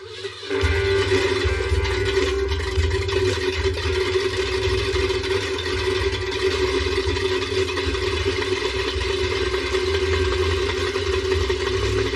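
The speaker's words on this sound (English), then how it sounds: "Well, the engine works. It sounds like it needs timing work." A 1978 Dodge Lil' Red Express truck's engine runs steadily at idle with a rough, uneven low rumble and metallic clatter, loud and close, continuing alone with no voices.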